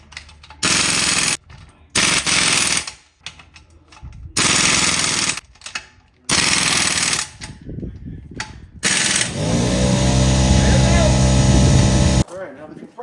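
Short bursts of loud mechanical rattling start and stop again and again in a garage where a 1971 Dodge Charger is being fitted with new gears, ending in a longer steady run before cutting off.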